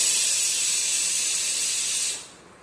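A pressure cooker hisses loudly with a steady, bright jet of steam while cooking mutton keema curry, then cuts off abruptly near the end, leaving near silence.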